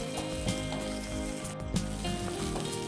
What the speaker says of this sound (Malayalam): പച്ചമുളകും കൂടി ഇട്ടിട്ട് നന്നായിട്ട് നന്നായിട്ട് വറുത്തെടുക്കും